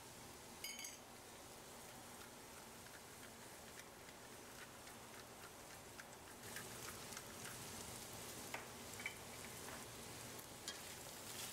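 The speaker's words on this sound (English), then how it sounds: "So now I'm mixing up the meat a bit here to evenly distribute the seasoning" Seasoned ground beef sizzling faintly in a pan as it is stirred, a steady crackling hiss with scattered small pops and scraping, no talking.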